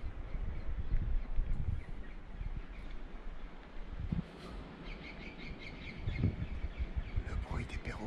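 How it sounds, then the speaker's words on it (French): Parrots and other birds chirp and call intermittently in the distance over a noisy outdoor background with some rustling and a voice, at 7 a.m. after overnight rain in Charlotteville, Tobago. "Le bruit des perroquets,"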